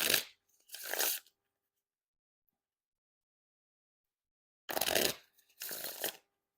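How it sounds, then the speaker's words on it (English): Succulents playing cards by Penguin Magic are riffle shuffled up close: two quick fluttering bursts, a few seconds of silence, then two more. "And now time for the riffle shuffle or bridge shuffle."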